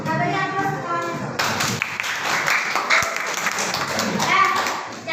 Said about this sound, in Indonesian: Kita beri aplaus semuanya tuh.